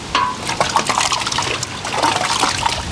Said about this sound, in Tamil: தேங்காய் பால் ஊற்றிடலாம்.